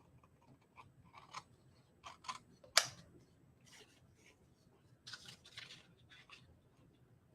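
A paper trimmer slices along card edges, quiet scattered ticks and short sliding swishes with one sharp louder snap, close and faint.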